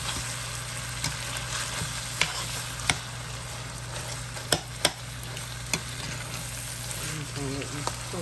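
Little potatoes cook in a hot pan with a constant bright sizzle and hiss, punctuated by several sharp clicks and taps of a utensil against the pan.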